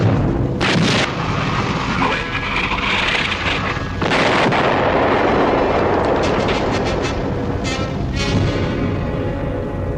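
An artillery fire mission with smoke rounds roars on loudly and continuously, with deep rumbling booms and heavy sustained noise throughout.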